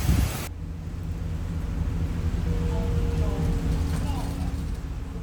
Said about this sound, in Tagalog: sobrang lakas ng hangin. Sinasabayan niya kasi ulan